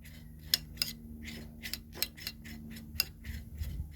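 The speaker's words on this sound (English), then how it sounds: "just scrape off all the gel" Spoon scraping gel from a cut aloe vera leaf, a series of short, fairly close scrapes and clicks in an uneven rhythm over a low steady hum, with no talking.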